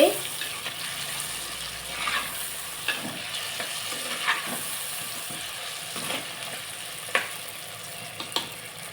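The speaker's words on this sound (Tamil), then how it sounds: "கத்திரிக்காய் நல்லா வதங்கிடுச்சு." Eggplant sautés in a pan with a steady low sizzle and occasional scraping stirs and light knocks against the pan, fairly close.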